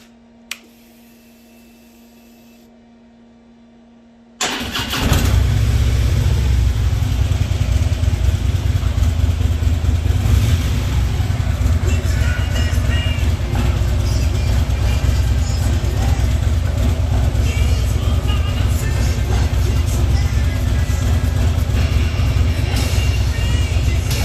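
A 2015 Harley-Davidson Ultra Limited motorcycle fires up after a quiet pause and settles into a loud, steady, close idle for the rest of the clip, with a faint electronic whine beforehand.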